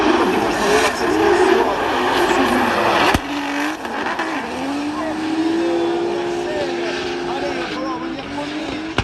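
Drift cars run at the Bordeaux Mérignac circuit during a French drift championship event, with loud revving engines and squealing tires that hold steady and then rise and fall as a commentator talks excitedly over them.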